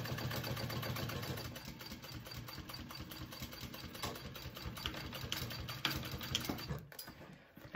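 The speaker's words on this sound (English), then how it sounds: "And I'm going to sew again" A sewing machine hums steadily, stitching a seam on a fabric handbag. The motor drones evenly throughout at moderate volume and dips briefly near the end.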